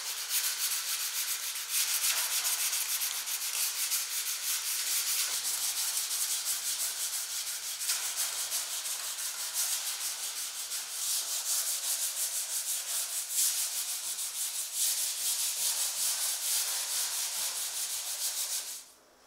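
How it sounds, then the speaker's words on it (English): Steady hand sanding of wooden molding with sandpaper during a home renovation, a continuous close scratchy rubbing that runs almost without pause before stopping abruptly at the end. "it needs to be cleaned up with some sandpaper"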